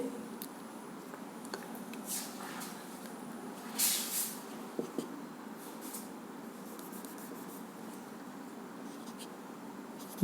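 Writing on a board during a lesson, soft scratchy strokes and brief rubbing bursts at close range over a quiet, faintly hissing room.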